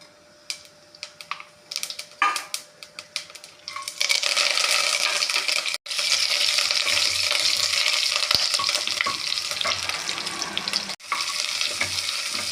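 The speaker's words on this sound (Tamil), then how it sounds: "ஒரு குக்கரை அடுப்பில் வைத்து 1 ஸ்பூன் எண்ணெய் விட்டு எண்ணெய் காய்ந்தவுடன் சோம்பு போட்டு ரம்ப இலை, கருவேப்பிலை போட்டு தாளிக்கவும்" Fennel seeds, bay leaf and curry leaves drop and click into a pressure cooker, then hot oil bursts into a loud, steady crackling sizzle that continues with occasional pops.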